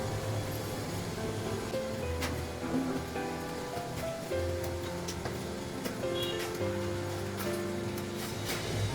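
Pieces of rohu fish sizzle in a hot pan in a home kitchen, a steady crackling hiss that runs continuously under faint tonal sounds in the background.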